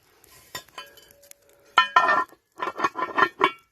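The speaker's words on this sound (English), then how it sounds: "We're going to put the lid on now" A lid set onto a pot of gamjatang cooking over an outdoor fire, a metallic clink and rattle of metal settling, followed by a few more clattering knocks against the pot rim.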